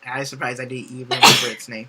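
A single sharp sneeze bursts out in the middle of casual podcast conversation, with people talking just before and after it.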